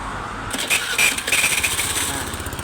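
A Honda Click 110i scooter with a healthy original engine fires up after a short starter whirr and settles into a steady, close idle with a light buzzing tone.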